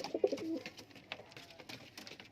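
Pigeons, a black male and white female tumbler pair, give a short burst of soft cooing, faint and close, followed by scattered light rustles and taps.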